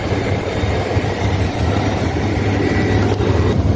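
Vehicle engine idling after starting on a revived battery, a loud, continuous low rumble with a steady droning hum and no other sounds over it.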